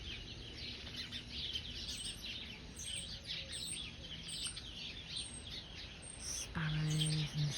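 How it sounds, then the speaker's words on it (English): Sparrows and starlings chirp and chatter all across a small woodland garden, a busy overlapping chorus of quick tweets at moderate distance, with a low hum near the end. "Sparrows and starlings."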